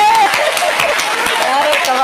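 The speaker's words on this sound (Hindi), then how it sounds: "अब तुम ताली बजाओगे कि मैं उंगली यहीं रखूं?" An audience at a comedy poetry gathering breaks into dense, steady applause and clapping that fills the whole moment, with a voice speaking over the top of it.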